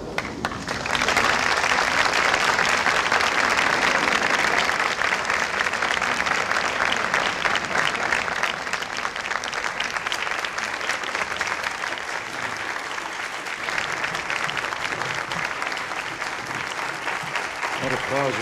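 Audience applause for Mother Teresa at a Presidential Medal of Freedom ceremony with President Reagan, a long sustained ovation of many hands clapping loudly and evenly, fading slightly toward the end.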